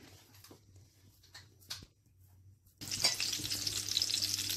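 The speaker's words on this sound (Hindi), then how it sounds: "ऊपर इनको फ्राई पैन में रखे हैं, मीडियम फ्लेम है।" Kebab bread rolls going into a frying pan on a medium flame; after a few quiet knocks and clatters, a loud crackling sizzle bursts up and continues steadily, close by.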